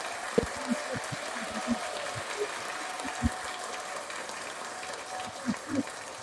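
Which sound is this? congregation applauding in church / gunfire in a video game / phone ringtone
congregation applauding in church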